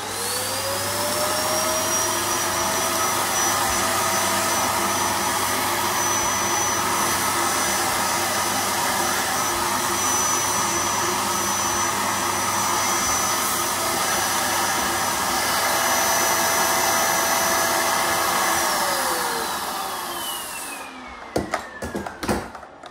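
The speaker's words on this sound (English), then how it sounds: "over the valve thing to suck all the air out" A vacuum cleaner drawing the air out of a vacuum storage bag holding a quilt, a loud steady whine held close for about twenty seconds, its pitch rising as the bag tightens, then cutting off with a few clunks.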